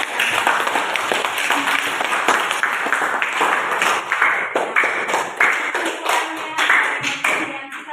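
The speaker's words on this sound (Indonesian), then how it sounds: "kita berikan tepuk tangan untuk Asmawati" Classroom applause for a student, many hands clapping in a dense, steady, fairly loud patter that continues for several seconds with no talk over it.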